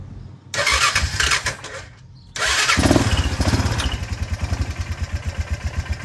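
Honda Rubicon ATV engine being revived, a first failed crank and then a second crank that catches and starts, settling into a low, slightly slow, pulsing idle, loud and close, no talk.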